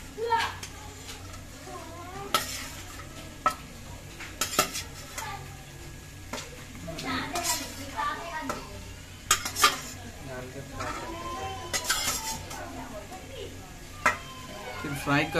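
Fried chicken pieces go into a pan of butter chicken masala and are stirred, with metal spoon scrapes and clinks recurring irregularly against the pot and a faint sizzle beneath, while someone talks throughout.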